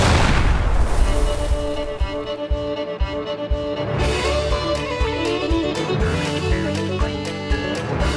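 Cartoon-style explosions from a Looney Tunes mobile game, a dense continuous barrage of booms and bursts layered over music, loud and unbroken throughout.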